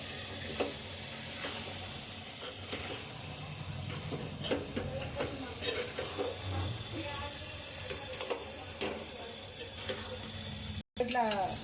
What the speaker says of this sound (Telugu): వేయించి పెట్టుకున్న చేపలు ఇట్లా వేసుకోవాలి మంచిగా. వేసుకొని కలుపుకోవాలి.